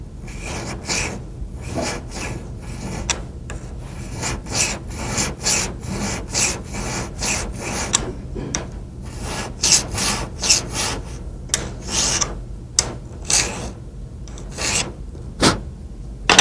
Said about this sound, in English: we're going to have to open it up just a little bit with a 60-degree dovetail file